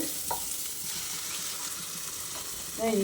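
Onions and other ingredients for egg rice sautéing in a pan, a continuous close sizzle with light stirring and a brief clatter near the end; no voices.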